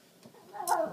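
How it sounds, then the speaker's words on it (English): A brief, nearby cat yowl or cry rising at the end of a short quiet moment, with faint rustling before it. "That was my cat going slightly insane."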